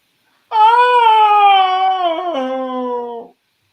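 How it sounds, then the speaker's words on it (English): A single loud, drawn-out whining cry sweeps slowly downward in pitch for nearly three seconds, clean and close like a sound effect, then stops abruptly into silence. "you hear a loud whining throughout the caverns ahead of you"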